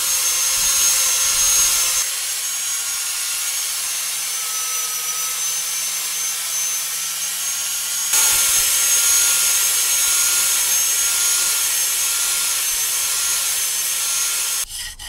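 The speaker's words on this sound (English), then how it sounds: "Filling the gap, the excess was then sanded away." A sander grinds excess filler off a hand-forged rapier, a loud, continuous abrasive rasp broken by short pauses and level shifts.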